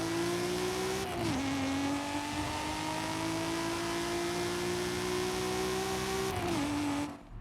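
A car in Forza Horizon 5 launches and accelerates hard, its engine note climbing steadily through the gears with two clear upshift drops, loud and up close, with no voices.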